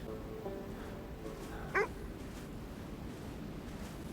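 A dog in the horror video game Kona Brume gives a single short, faint yelp or whimper over a steady background ambience.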